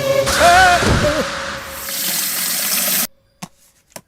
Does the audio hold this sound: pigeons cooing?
no